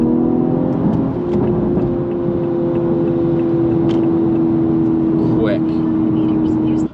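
A Toyota Supra with a turbocharged V6 cruises on the highway, giving a steady engine hum and road roar from inside the cabin, with a brief rising whine near the end.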